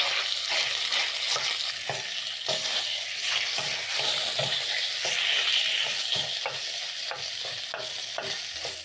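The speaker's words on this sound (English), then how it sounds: "Sear your sausages for around 2 to 4 minutes" Sausages sear in a hot pan with a steady, close sizzle, scraped and broken up by a spatula in frequent stirring strokes throughout.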